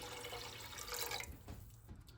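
Water pours steadily into a pot on the stove for a pickling brine with white vinegar, a continuous rushing splash that thins into lighter trickles and drips near the end, with no talking.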